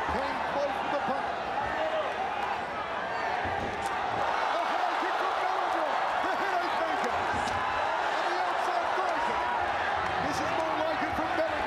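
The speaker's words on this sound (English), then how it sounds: "The crowd roars again as Belingon came close to the punt." A dense crowd roaring at a ONE Championship mixed martial arts event with Kevin Belingon fighting, a sustained arena-wide wall of cheering throughout, with a commentator's voice talking over it.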